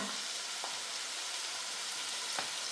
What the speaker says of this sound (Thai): เอาไปผัด เอาไปผัดให้ให้มันแห้งเลยจ้ะ